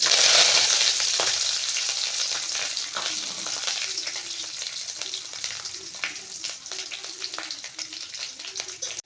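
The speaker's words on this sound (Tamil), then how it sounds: "கடுகு நல்லா பொரிஞ்சதும் நம்ம வச்சுருக்க சின்ன வெங்காயம் கருவேப்பிலை காஞ்ச மிளகாய் இதெல்லாம் இதில் போட்டுடலாம்" Loud, steady crackling sizzle of mustard seeds, small onions, curry leaves and dried chillies frying in hot oil, with occasional pops and stirring clatter, gradually easing.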